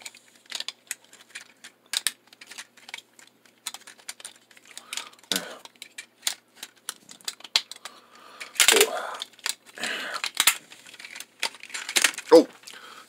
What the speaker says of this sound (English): Sorry, I hit the tripod.